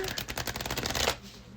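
A quick riffle of cards being shuffled, a rapid burst of fluttering clicks that stops abruptly after about a second.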